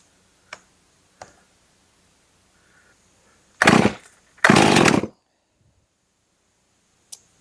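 A rebuilt Stihl MS311 chainsaw with a mildly ported engine and modified muffler sputters to life in two short, loud bursts of about half a second each, with a few sharp clicks before and after and quiet gaps between.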